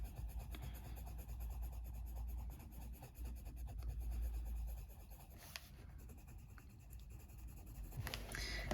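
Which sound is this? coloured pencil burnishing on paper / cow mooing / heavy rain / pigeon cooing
coloured pencil burnishing on paper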